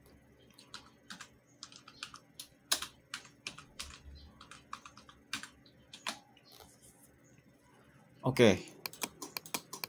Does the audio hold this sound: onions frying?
no